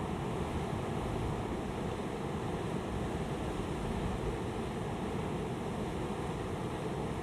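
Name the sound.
large waves on the wild Scottish coast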